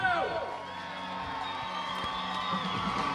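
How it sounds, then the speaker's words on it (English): Spectators at a beach rugby match in Chisinau, Moldova, cheer and whoop in a steady, lively roar that stays loud throughout, with scattered shouts rising above the crowd. "The crowds in Chisinau erupting"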